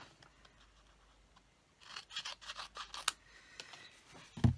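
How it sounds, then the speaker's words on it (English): Scissors snip through red glimmer paper for Christmas cardmaking, a few quiet close-up cuts and rustles with a soft thump at the end. "where are my scissors? Just let's cut that bit"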